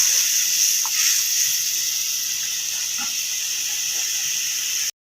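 A pan of mustard fish curry bubbling on the stove, heard as a steady, close, bright hiss with a few soft pops and bubbles, continuous until it cuts off abruptly.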